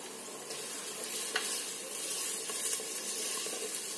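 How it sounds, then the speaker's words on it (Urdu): Tomatoes go into softened onions frying in a pan. A low, steady sizzle carries a few soft stirring scrapes, with no voices. "پیاز ہمارا ہو گیا سافٹ، اس میں ایڈ کریں گے ٹماٹر"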